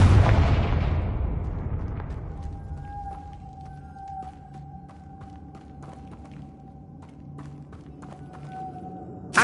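Confringo blasting spell detonating in Hogwarts Legacy on PS5: a loud, heavy blast at the start that rumbles away, leaving thin ringing tones and scattered small clicks.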